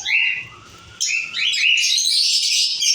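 An albino red-eye breeder pair of birds chirps close and loud, with bright repeated tweets and squeaky calls in quick bursts and a brief pause near the middle.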